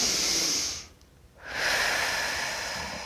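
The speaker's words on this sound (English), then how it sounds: "I could use a few deep breaths myself right now." A deep breath is drawn in with a loud airy rush, pauses briefly in near silence, then is let out in a long, steady exhale close to the microphone.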